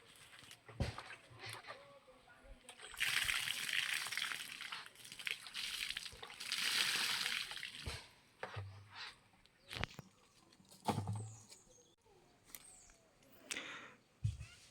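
Water is poured onto soil around a young mango plant in a garden, giving intermittent splashing and sloshing bursts at close range, with some louder pours in the middle and people talking in between.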